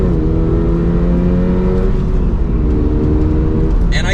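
A manual Toyota GR86 pulling hard at full throttle, its engine droning loud and steady from inside the car with a slowly climbing pitch, no talking.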